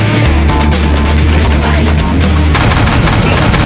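Heavy gunfire in a film battle scene, loud rapid machine-gun bursts and booming shots in dense, continuous volleys, close and overwhelming with a sharp shift partway through.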